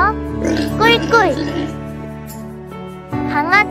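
A voice imitates a piglet oinking in a gentle children's farm-morning story, with two bursts of squealy, rising oinks separated by a quiet pause, close and clear.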